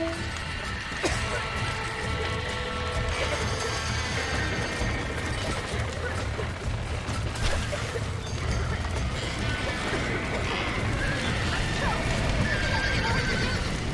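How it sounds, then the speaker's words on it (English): Horses in the Red Dead Redemption video game, with repeated loud neighs and whinnies over clip-clopping hooves, mixed with in-game thuds and clatter while characters shout and talk over the action. "Back that dumb horse!"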